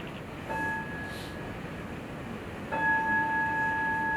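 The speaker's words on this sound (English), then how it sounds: "And I'll invite the bell once again." A meditation bell is struck twice during a celebration-of-life ceremony, each strike giving a clear, sustained ringing tone that hangs in a quiet room, the second strike louder than the first.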